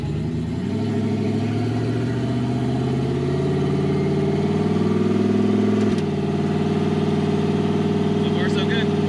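A turbocharged Datsun 280Z street car driving at a steady cruise, its engine droning loudly and continuously from inside the cabin, with a slight shift in pitch midway and a faint brief chirp near the end.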